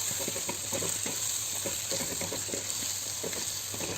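Tomatoes fry in a pan while being stirred for a Tamil country-chicken rasam, a steady close sizzle with repeated scraping stir strokes throughout and no talk.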